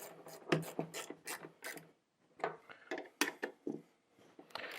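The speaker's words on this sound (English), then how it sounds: "So we're going to take our 10mm wrench. We're just going to put that ratchet on the side, and we're just going to snug it up." A 10mm ratchet wrench clicks while snugging up bolts on the gearbox of an ammunition reloading press drive, with quick bursts of ratcheting, a short pause, then more clicking close by.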